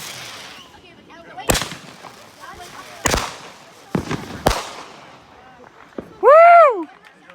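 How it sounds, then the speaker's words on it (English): Backyard fireworks from a missile battery and cake boxes go off in four loud, sharp bangs with crackling tails, followed by an excited voice whooping. "Let the fireworks begin."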